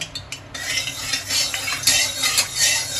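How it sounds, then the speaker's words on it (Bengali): Peanuts frying in ghee in a metal pan for flattened-rice pulao are stirred with a utensil, giving repeated close metallic scrapes and clinks over a faint sizzle. "এবার সবার প্রথম আমি বাদামগুলো ভেজে নিচ্ছি।"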